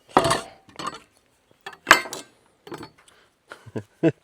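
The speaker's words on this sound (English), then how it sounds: "Got the cast iron pan." A cast iron pan handled in a kitchen gives a few short, close metallic clunks and scrapes in separate bursts with quiet gaps between them, and no talking over it.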